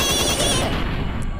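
Rapid gunfire in a Skibidi Toilet shooting game on Android, a loud continuous burst of automatic shots lasting over a second, close and dense, tapering at the end with no speech over it.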